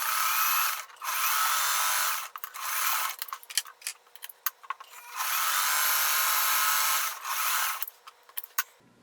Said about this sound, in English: we're sewing 1/4 inch on each side of the line